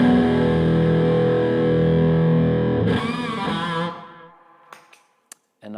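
An electric guitar plays an overdriven tone through a BluGuitar FATCAB cabinet on stage, thick and distorted sustained chords ringing loudly for about four seconds before fading, followed by a few faint scratchy string noises.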